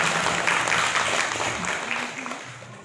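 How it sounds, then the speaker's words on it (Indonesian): A crowd claps together in sustained applause that gradually tapers off, with faint voices mixed in, at a Hanura party regional meeting in South Papua. "Mari kita tepuk tangan dulu."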